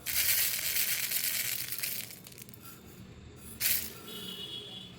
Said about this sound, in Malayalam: മുളകും കടുകും കൂടി ഒന്ന് അരച്ചെടുക്കാം